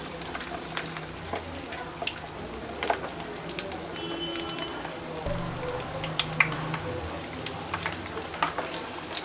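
Aloo tikki potato patties, coated in breadcrumbs, fry in mildly hot oil with a steady soft crackle and sizzle, close and even throughout, without any talking.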